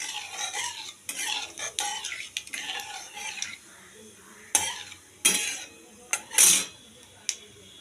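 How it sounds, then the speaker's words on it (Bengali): Dried red chilli and a pinch of sugar hit hot oil for new potato and pea dum, crackling in short bursts between clattering spatula scrapes and metallic pan clinks, with no voices. "আর দিয়ে দিচ্ছি একটা শুকনো লঙ্কা। আর তেলে কালার করার জন্য দিয়ে দিচ্ছি একটু চিনি।"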